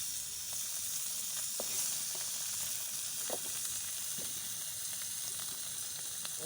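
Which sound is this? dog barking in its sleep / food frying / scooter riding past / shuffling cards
food frying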